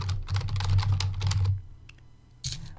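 Rapid clicking of keys on a computer keyboard, a steady burst of typing up close, then a pause and a couple of final taps, with mouse clicking.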